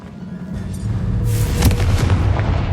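A Confringo explosive spell blast in Hogwarts Legacy, a loud booming burst that swells and rumbles with crackling debris over a couple of seconds, no voices.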